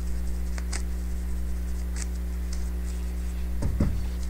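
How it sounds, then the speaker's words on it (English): Tarot cards are shuffled close up in light, scattered ticks and riffling flicks that come in short bursts over a steady low hum, ending in a slightly louder shuffle. "still wants me to shuffle"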